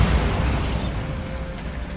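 A Bombarda spell blast in Hogwarts Legacy, a loud, heavy boom right at the start that rumbles and gradually fades into a low, lingering tail, with no voices.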